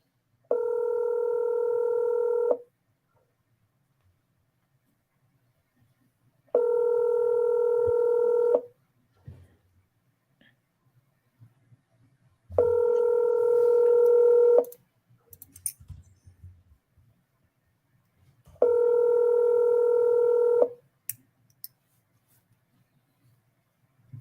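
Four long, steady telephone keypad tones sound at even intervals, each lasting about two seconds, clear and close with faint clicks and rustling in the quiet gaps between.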